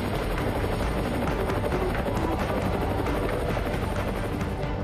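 A military helicopter flies during a naval commando operation around the merchant vessel Bunga Laurel, its rotor and engine a loud, steady, continuous roar with no talking over it.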